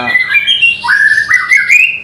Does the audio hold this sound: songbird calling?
yes